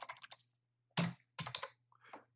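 Short clusters of clicks from computer keyboard typing, with irregular bursts of keystrokes and brief pauses in between; close but fairly quiet, with a faint steady hum underneath.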